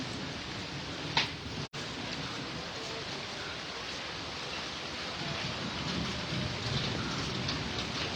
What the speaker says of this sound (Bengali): শালার বৃষ্টি রে